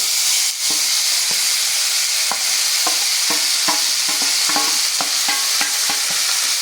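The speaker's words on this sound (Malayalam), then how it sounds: "അപ്പൊ അതിലേക്ക് നമുക്ക് പയറിട്ട് കൊടുക്കാം" Red beans stirred into hot oil with browned pepper, a loud constant sizzle and hiss broken by repeated sharp scrapes and taps of a utensil against the pan.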